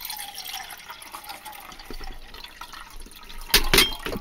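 Water from a flask is poured into a pot on a small camping stove, a short splashing trickle near the end after quieter background noise.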